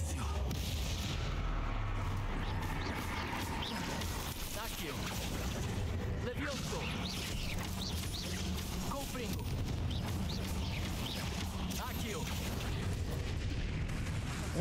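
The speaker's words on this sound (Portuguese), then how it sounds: "Eu não sei o que é que explodiu atrás de mim, mas alguma coisa explodiu." Explosions and rumbling booms in the Hogwarts Legacy video game, dense and loud with crackling bursts throughout, while someone talks over the game sounds.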